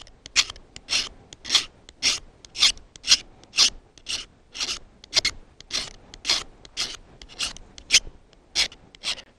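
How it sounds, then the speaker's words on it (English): A magnesium fire-starting tool being scraped to shave off magnesium, with about fourteen evenly spaced rasping strokes that are sharp, close and clear against a quiet background. "I've just taken the fire starting tool here and shaved off a pile of the magnesium."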